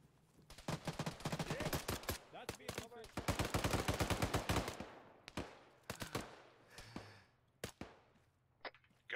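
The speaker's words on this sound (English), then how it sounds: "Taking a shot, Sal." Automatic gunfire from an Arma 3 video game battle, with rapid bursts of close, loud shots that thin into scattered single cracks and echoing distant reports.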